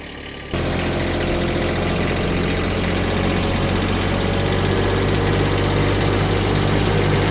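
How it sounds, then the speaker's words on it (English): Intrepid PM85 articulating wheel loader engine starting up, then running loud and steady with a low, rough idle drone close by. "is driving an Intrepid PM85"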